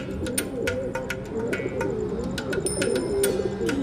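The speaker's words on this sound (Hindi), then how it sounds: "बहुत ही लाजवाब कबूतर हैं" White Bajra high-flyer pigeons, doodiya birds from Tonk, cooing softly in a steady low murmur close by, with scattered sharp clicks and chirps above it and no talking.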